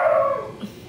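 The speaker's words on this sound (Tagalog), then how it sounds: "Yan ka na naman, tumatahol ka na." A dog gives one short, loud, close bark that trails off quickly, heard alone without talking.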